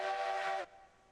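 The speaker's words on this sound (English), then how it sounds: "First time you whistle, it like doesn't load the sound file fast enough." A steam locomotive whistle in the railroad video game Railroads Online: a single short loud shrill blast with a chordal tone and hiss that cuts off abruptly, leaving faint background rumble.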